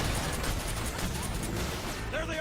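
Rapid, continuous explosions and gunfire in Metal Gear Solid 3, a dense wall of booming blasts with a voice faintly underneath.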